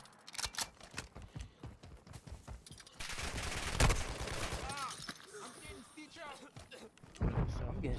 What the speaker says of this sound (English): I'm getting shot from my left, bro.